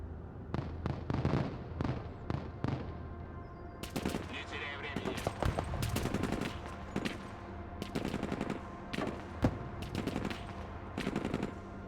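Rapid bursts of machine-gun and rifle fire from units in the Broken Arrow modern warfare strategy game, crackling in dense repeated volleys with brief pauses, a voice faintly present.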